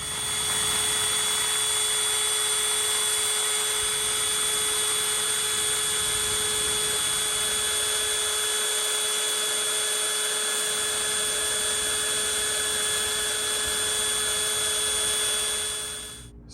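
Small drill bit boring holes for a car rear wing install, a steady high-pitched whine held continuously for about sixteen seconds before cutting off at the end.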